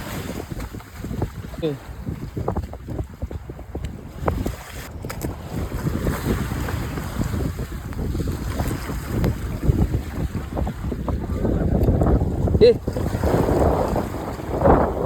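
Strong wind buffeting the microphone at sea from a fishing boat, with waves and the hull noise, roaring steadily and growing louder toward the end.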